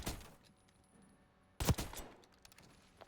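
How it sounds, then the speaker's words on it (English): An SMG in Black Ops 6 fires a short automatic burst near the start, then after a quiet pause a second, louder and sharper burst cracks out close by, trailing off into faint echoes. "This is an SMG"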